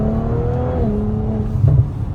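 An Audi B9 RS5 V6 with a Valvetronic Designs free-flow exhaust and resonator delete pipes hums at a steady, smooth drone with a slight swell near the end, close and moderately loud.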